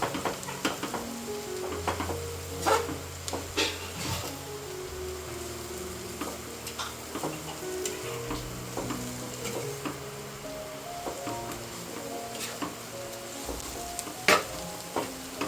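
Koyrel, a wild monsoon vegetable, being stirred in a pan while it cooks, with soft scraping and stirring strokes over a steady low sizzle, close and moderately quiet, with no talking.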